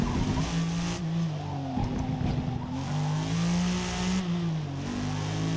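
A race car in Forza Motorsport accelerating through a turn, the engine droning and climbing in pitch with a gear shift midway and faint tire scrub, steady and close.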